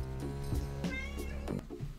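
A pet cat meows close by, giving several short, clear meows in quick succession over a steady background hum.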